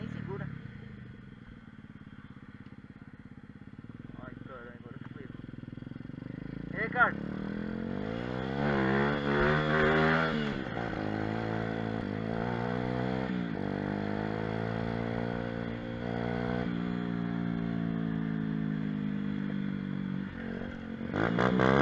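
A mini moto pit bike's small engine revs loudly and unevenly, its pitch rising and falling and sputtering as it cuts out, close by and fairly continuous.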